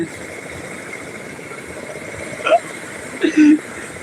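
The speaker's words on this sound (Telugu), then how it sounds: "బోట్లు వెళ్ళిపోతున్నాయి ఇప్పుడు వెళ్ళిపోతాయి ఒకటి ఒకటి" Fishing boats pulling away from shore, their engines a steady mid-pitched drone with a few brief tonal whines rising over it near the end.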